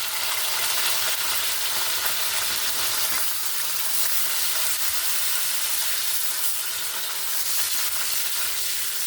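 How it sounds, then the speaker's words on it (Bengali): Whole tempering spices and curry leaves fry in hot oil in a pan for a chicken curry, producing a loud, close, continuous sizzle and hiss that stays even from start to finish. "এখানে ফোড়নগুলো একদম লাল লাল করে ভাজা হয়ে গেছে"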